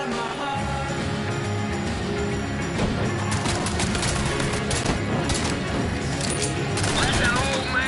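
Rapid gunfire from Mafia 3 during a car chase rattles in repeated bursts over engine noise and game music, with voices talking over the action.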